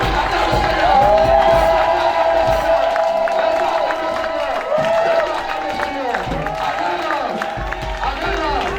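A church congregation cheering and shouting acclamation to the Lord, a dense, loud, continuous crowd roar with overlapping voices and cries that fills the whole stretch.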